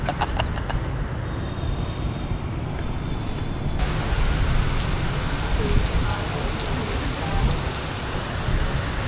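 Heavy rain pouring down, heard from shelter beneath a bridge, a dense, loud, continuous hiss and patter of drops that thickens noticeably partway through and then stays steady, with no talking over it.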